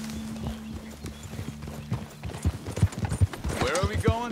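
Horses setting off on a ride in Red Dead Redemption 2, with steady hoof clip-clops and a whinny near the end, accompanied by creaking tack and low background music while voices talk.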